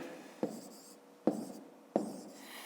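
Pen writing numbers on paper during a fifth-grade subtraction exercise, three short separate bursts of scratchy strokes, close and fairly quiet with no talking.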